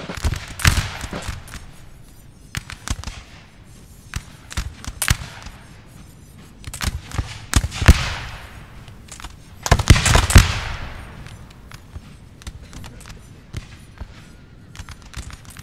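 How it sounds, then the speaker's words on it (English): Russian line infantry fire musket volleys in Napoleon Total War's Battle of Kulm, 1813: ragged crackling bursts of gunfire roll in repeatedly over several seconds, some distant and some close and loud, with no speech. "the Russians open up. They start their volleys."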